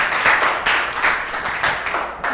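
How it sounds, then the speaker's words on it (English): A classroom full of students claps together in a brief, steady round of applause with no voices over it. "Give him a round of applause."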